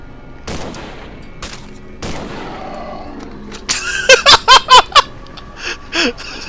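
Gunshots ring out in the horror game Cry of Fear, a rapid burst of four or five loud, close shots after scattered thuds and background game noise, followed by a couple of fainter hits.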